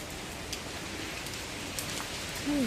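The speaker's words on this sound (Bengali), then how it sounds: "এইভাবে টিপ টিপ পানি মেরেই হচ্ছে বৃষ্টি।" Light drizzle patters down over green countryside on a rainy day, a soft continuous hiss with scattered drip ticks and a brief high chirp near the end.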